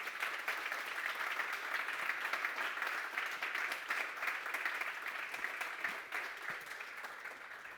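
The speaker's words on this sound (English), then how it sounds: "Your applause." Steady applause from a sizable conference audience, dense and continuous clapping that holds at an even level before tapering slightly near the end.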